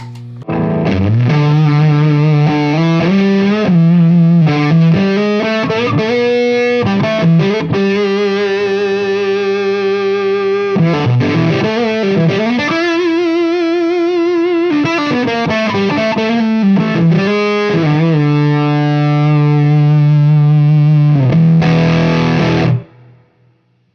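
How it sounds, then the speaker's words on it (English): Electric guitar played through a Fuzz Face fuzz pedal into a clean amp, thick and saturated with sustained notes and chord changes, loud and continuous for about twenty seconds before cutting off. "when you can hear the creaminess as this fuzz face is on."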